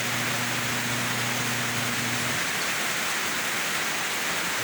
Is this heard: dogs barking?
no